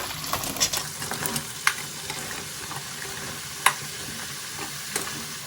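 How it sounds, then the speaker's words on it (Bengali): Bottle gourd pieces are stirred into sizzling masala in a pan, a steady close frying hiss broken by a few sharp scrapes and knocks of the spatula, with no talking. "এবার লাউটা দিয়ে আমি খুব ভালো করে মিশিয়ে নেব"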